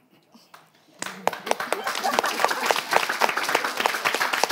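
A live audience at a French-language comedy show bursts into applause after about a second of near-quiet, a dense wash of clapping that grows slightly louder and stays steady to the end.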